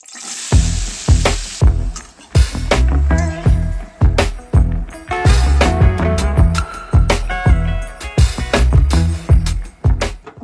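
Cauliflower and potatoes fry in a pan with nigella seeds in a home kitchen, with loud, irregular bursts of stirring and scraping over a steady sizzle.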